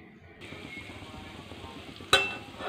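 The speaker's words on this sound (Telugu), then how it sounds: "అదే కళాయిలో కొంచెం ఆయిల్ వేసుకొని తాలింపు పెట్టుకున్నాం." Tempering seeds fry in a little oil in a kadai, a faint steady sizzle that jumps to a sharper, louder crackle near the end.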